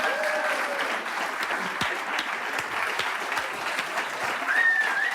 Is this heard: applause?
yes